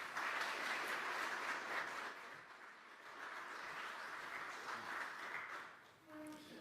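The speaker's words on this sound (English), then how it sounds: "Give him a big round of applause, please" A crowd applauds the incoming president and CEO of Florida Tax Watch at a Florida press event, a quiet, steady wash of clapping heard from a distance that fades briefly before settling again.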